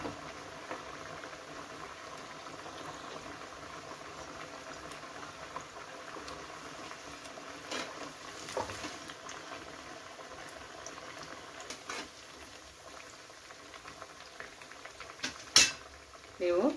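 Cabbage and moong dal vada batter cooks in a pan with a steady, quiet sizzle, broken near the end by a few clinks of a utensil against metal.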